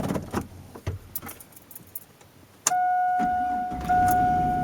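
Car keys jangle a few times, then an ignition key turns and the vehicle starts with a sudden jolt. An engine idle and a steady electronic chime from the dash follow.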